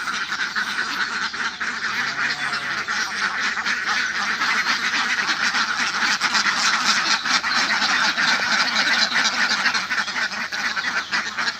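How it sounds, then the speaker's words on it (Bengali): Around 150 ducks on a commercial duck farm quack in a dense, continuous chorus, loud and close throughout, with no talking. "হাঁস আছে 150-150টা।"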